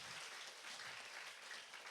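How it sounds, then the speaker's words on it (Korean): A church young adults' congregation gives a round of applause to welcome a newcomer, a continuous wash of many hands clapping, soft and distant throughout with no talk over it. "저희가 큰 박수로"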